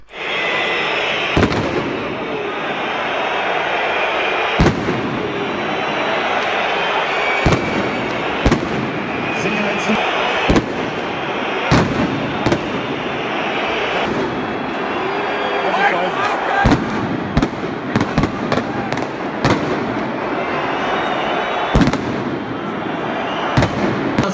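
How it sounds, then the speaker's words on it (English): Rioting football fans set off pyrotechnics during a relegation match, sending repeated loud bangs and cracks at irregular intervals over a continuous roar of crowd noise. "Abbrennen von Pyrotechnik"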